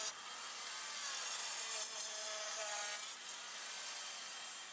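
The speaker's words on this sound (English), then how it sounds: "So I just set my fence to be the width of the 2x2 and pass the wood on through." Table saw ripping lumber into 2x2 strips, a continuous loud whine of the blade cutting through wood with a steady rasping drone and no talk.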